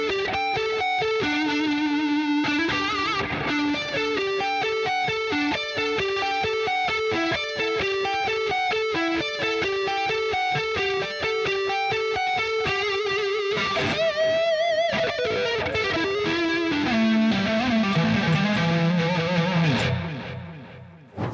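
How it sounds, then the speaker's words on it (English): A Fesley FST400M electric guitar plays through its single-coil neck pickup with heavy distortion: a rapid, rhythmic riff of repeated notes, loud and close, ending in a sliding, descending phrase, with no talking. "you can also still get some pretty heavy tones out of a single coil in the neck anyway"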